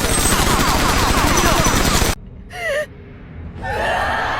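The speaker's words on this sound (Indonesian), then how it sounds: "Kaisar Goti pun menembak Chloe dan memerintahkan para penjaganya juga untuk menembak Chloe" Anime sound effect of guards opening fire: a dense, continuous burst of rapid gunshots for about two seconds, cutting off abruptly, followed by brief strained gasping or groaning vocal sounds.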